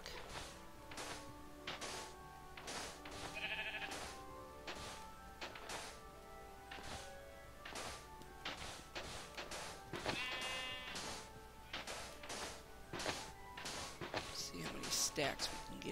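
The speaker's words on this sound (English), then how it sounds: "Oh, sheep, you almost gave me a heart attack." Video game sheep bleating a couple of times amid repeated sharp digging and whacking hits on sand, a busy rhythmic series of impacts with the bleats rising briefly above them.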